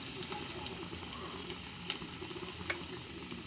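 Mustard seeds, cumin, green chillies and chopped onion sizzle in oil in a pan for a pea and tomato curry, a faint, even frying hiss with a couple of small pops, no talk.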